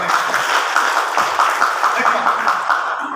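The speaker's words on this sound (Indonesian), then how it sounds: "Tepuk tangan buat beliau." Applause from attendees at a school work meeting for Sekolah Laboratorium Jakarta, moderately loud, uneven clapping with a pulsing texture and faint voices mixed in.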